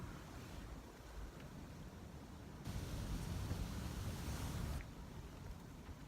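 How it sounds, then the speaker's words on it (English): Wind roars steadily past a tarp at a winter backpacking campsite in the Deam Wilderness, a broad rushing hiss that swells into a stronger gust midway and then eases, with no voices. "You kind of see my tarp moving around here, and kind of hear the wind"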